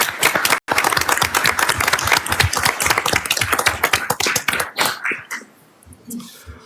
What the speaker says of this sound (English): I'd like to give them a round of applause this time.